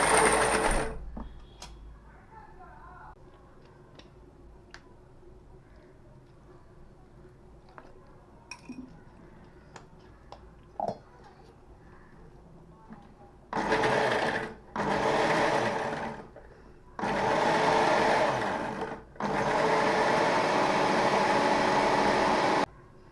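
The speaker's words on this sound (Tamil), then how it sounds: "தண்ணி ஊற்றி அரைச்சிக்குங்க." A mixer grinder whirs loudly in four bursts of a few seconds each, grinding cashew nuts with water into a smooth paste for a goat head curry, after a quieter stretch of faint kitchen clinks.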